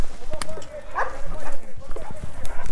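Shepherd dogs bark at passing cyclists on a downhill road, a few sharp barks mixed with wind noise and people talking nearby.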